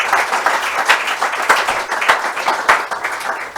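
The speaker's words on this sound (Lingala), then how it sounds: "on acclame président" An audience at a public meeting breaks into loud, sustained applause for the president, with dense clapping that keeps going evenly throughout.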